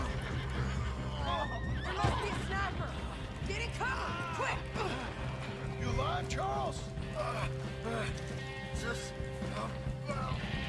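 A horse in the video game Red Dead Redemption 2 whinnies and neighs repeatedly, with wavering high calls over a steady game ambience and some hoof clip-clop, while someone talks throughout.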